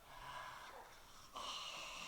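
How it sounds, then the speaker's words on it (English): Soft, close breathing through the mouth with an open throat, a steady airy rush that swells briefly partway through; quiet and alone, no speech. "if you hear my breathing, the throat is open."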